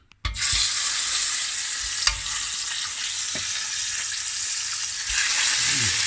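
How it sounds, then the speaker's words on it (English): Parsley, fennel, leeks and carrots brown in olive oil in a pan, a loud steady sizzle and frying hiss after an initial clatter, with occasional stirring knocks and no talking. "we got the olive oil in the pan. We're going to just brown these."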